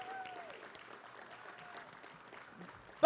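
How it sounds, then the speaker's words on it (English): Scattered clapping from a small crowd at a campus suicide-prevention walk, moderately quiet and steady, with a brief sharp sound at the very end. "Let's give them a round of applause."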